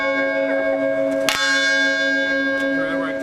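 A large bell cast at the Paul Revere foundry in 1801 rings with a sharp strike, then a long sustained ringing hum of layered tones that hangs and slowly decays.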